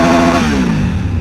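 A Triumph Tiger 900 motorcycle engine revs loud and close, a rough, dense roar whose pitch sags gradually over the short burst, with no voices.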